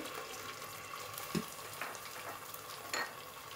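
Ginger and garlic paste frying in a pan for a rohu fish head curry, a faint steady sizzle with a few soft clinks of a spoon.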